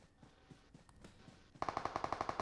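Automatic gunfire in the mobile battle royale game PUBG Mobile: a quiet stretch of faint shots and clicks, then a sudden loud rapid burst of about a dozen evenly spaced rounds.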